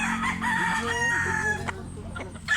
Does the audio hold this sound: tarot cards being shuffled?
no